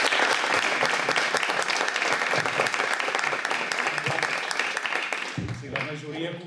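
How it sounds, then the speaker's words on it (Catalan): A crowd breaks into sustained, dense applause that fills the room, then fades out abruptly near the end as a voice begins. "Un aplaudiment pel senyor Slaxen."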